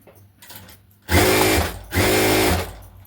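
A sewing machine stitches a blouse in two loud, steady bursts of running, each lasting under a second, separated by a short pause, with quiet room tone before the first burst and no talking.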